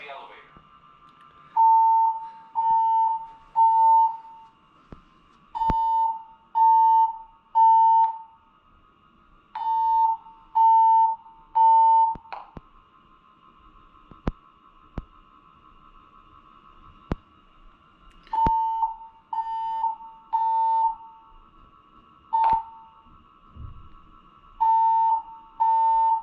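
A building fire alarm sounds during an evacuation, with repeated groups of sharp electronic beeps pulsing in bursts over a long stretch and a faint steady tone behind them.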